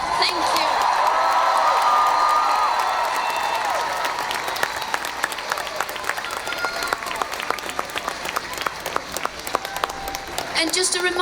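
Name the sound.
crowd applauding at climate strike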